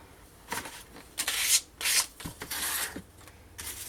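Blade cutting excess paper off a scrapbook page, heard as close, quiet scraping and rubbing strokes in short irregular bursts with no talk.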